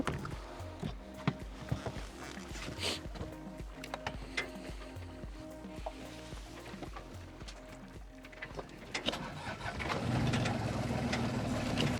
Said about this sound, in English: now we're gonna try to start the engine and see if it works